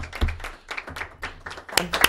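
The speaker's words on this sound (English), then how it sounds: "Little round of applause." A small studio audience at a local tonight show gives a sparse, light round of clapping, a handful of separate claps spread unevenly over two seconds.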